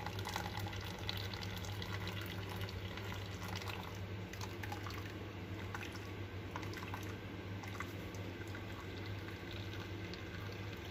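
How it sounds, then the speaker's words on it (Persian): Water drains from parboiled rice sitting in a colander, a faint continuous trickle and patter of dripping liquid over a low steady hum in a kitchen. "میذاریم آبش قشنگ بره."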